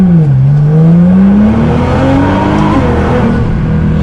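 Sports car accelerating hard, the engine note climbing in one continuous loud pull that stays close and fills the whole moment without any voices.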